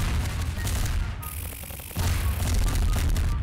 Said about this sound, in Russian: он там выплевывает, сколько этих выстрелов